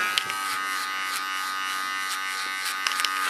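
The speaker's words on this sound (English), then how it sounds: "Use my small clipper even as a comb," Small electric hair clipper buzzing steadily close by as it trims a client's neckline, a constant whine with a few faint clicks of contact.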